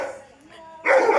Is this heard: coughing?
no